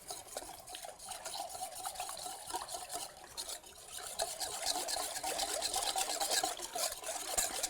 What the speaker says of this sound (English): I'm gonna whisk this up a little bit